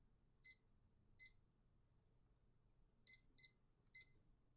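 A timer sounds five short, high electronic beeps, spaced unevenly, with two close together near the end. Each beep is crisp and clear against near silence.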